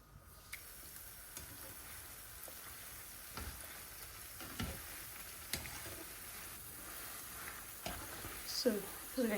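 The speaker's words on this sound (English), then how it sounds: "let's start frying" Nigerian puff puff dough fries in hot oil in a home kitchen, a faint steady sizzle with occasional sharp clicks and knocks, and a brief voice near the end.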